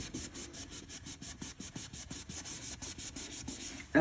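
Steady back-and-forth scrubbing of rust on a new floor, a rhythmic rasping stroke repeated about four times per second, close and moderately loud with no talk.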